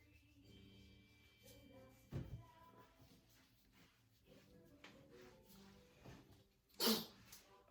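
A single sharp sneeze bursts out near the end, following an earlier brief burst, over quiet background sounds with no talking.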